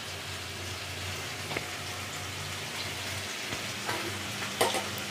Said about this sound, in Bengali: এবার আমি প্রথমে আলুটা দিতে থাকছি।